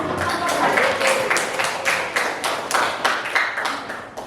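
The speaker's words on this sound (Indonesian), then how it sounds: "Sekali lagi tepuk tangan yang meriah." Classroom applause from a ninth-grade civics class after a group presentation: steady, fairly dense clapping from a roomful of students, close and continuous with slight surges, no talking over it.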